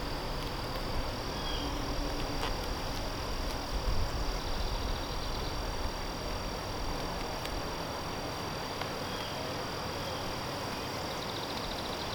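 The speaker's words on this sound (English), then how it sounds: "A couple bees that are not too happy with me." Bees hum steadily around an open hive while frames are inspected, a dense continuous buzz close by with no talking over it.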